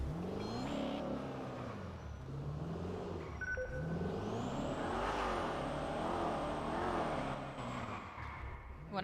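A car engine in GTA V on the NoPixel roleplay server revs and rumbles through several rising and falling accelerations, with a siren-like whine and game effects layered on top.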